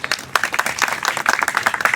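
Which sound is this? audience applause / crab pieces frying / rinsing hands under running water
audience applause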